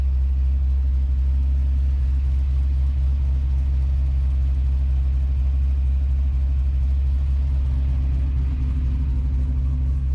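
A 370 LS-powered Chevelle idles steadily nearby, a deep continuous rumble with a low, even throb throughout.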